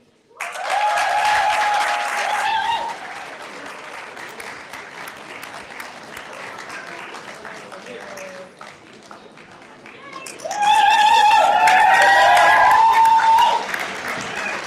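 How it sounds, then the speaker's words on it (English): Audience at a graduation ceremony breaks into applause for a graduate, sustained clapping that dips briefly under a voice over the speakers and then surges loudly again, with cheers. "All right, please give a big applause to her"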